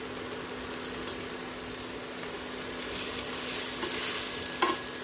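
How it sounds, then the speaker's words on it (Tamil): Ginger garlic paste for tomato thokku sautés on a low flame in a pan. A continuous close sizzle runs throughout with a few light stirring scrapes and taps, and no voices. "அது வரைக்கும் கொஞ்சம் அப்படியே சிம்லேயே வச்சு வதக்கி விடலாம்."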